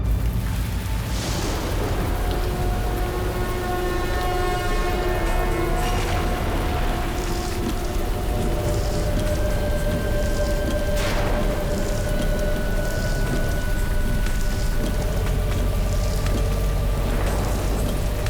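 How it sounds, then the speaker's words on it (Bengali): Steady, dense roar of heavy rain throughout, with faint tonal sounds drifting above the downpour. "কি জোরে বৃষ্টি পড়ছে এখানে।"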